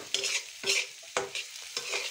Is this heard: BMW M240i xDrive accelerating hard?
no